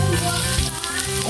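Onions tossed into a hot frying pan sizzle steadily and loudly up close, a continuous crackling fry with no talking over it.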